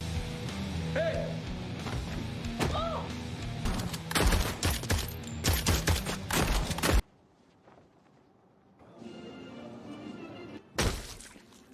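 Rapid bursts of sharp, loud gunfire and impacts crackle for several seconds, then cut to near silence before one more short burst near the end.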